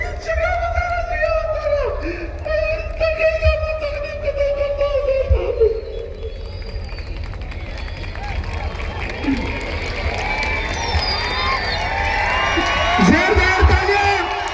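A crowd at a public gathering cheers and claps for a speaker. Voices talk at first, then a broad wash of applause, whoops and shouts builds and grows louder toward the end.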